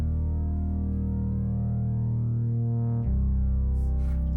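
Heavy synth bass from the GMS Nails preset in FL Studio with effects switched off, a loud sustained low drone holding one note, then dropping to a deeper note about three seconds in, playing alone.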